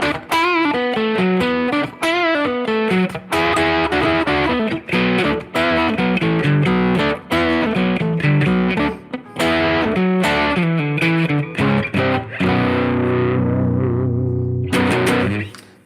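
Electric guitar plays a passage of a song with a distorted, effects-laden tone, dense strummed chords and melodic runs continuing steadily for about fourteen seconds before a brief pause and a final burst.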